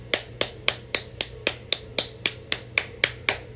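Hands clap in a steady, even rhythm in place of a drum, about a dozen sharp, crisp hits at a brisk regular pace, close and dry over a faint low hum.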